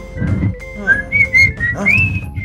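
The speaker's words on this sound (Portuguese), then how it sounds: "tem alguém assoviando aqui" Someone whistles a wavering, sliding tune in the GTA 5 video game: a clear, high tone rising and falling in short phrases over a low, busy in-game rumble.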